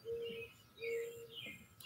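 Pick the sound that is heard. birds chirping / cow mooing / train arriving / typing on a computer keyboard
birds chirping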